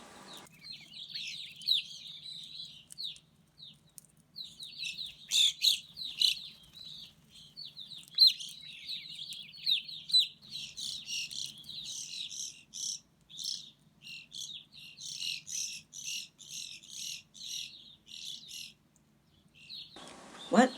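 Backyard birds, grosbeaks among them, chirp and tweet in quick, busy bursts that run nearly the whole time, with short pauses between flurries and no talking.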